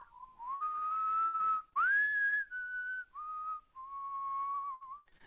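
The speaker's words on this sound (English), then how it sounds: "listen to us whistle" Someone whistles a melody alone, clear and close, with shifting loudness: sustained notes, a bright swelling rise near the middle, then softer held tones and short breaks between phrases.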